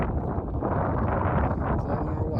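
Strong, freezing wind buffets the microphone outdoors at a solar panel installation on a Bounder Class A motorhome, a constant loud low roar with no pauses.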